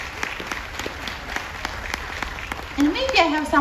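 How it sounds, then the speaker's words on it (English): A cruise ship audience applauds a couple honoured as top cruisers, with scattered, crisp claps over a steady background and a voice speaking over the last moments. "Please give a big round of applause for Joyce and Kenneth,"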